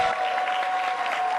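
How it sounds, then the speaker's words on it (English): Applause from a large audience at a freshman investiture ceremony, welcoming the afternoon's MC; dense, steady clapping fills the hall throughout at an even, moderately loud level. "Please give her a round of applause."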